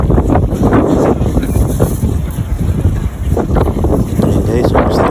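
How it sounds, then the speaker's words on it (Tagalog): Strong wind buffets the microphone outdoors in gusty, rumbling bursts, loud and constant, with people talking faintly underneath. "Lakas na hangin guys, sorry."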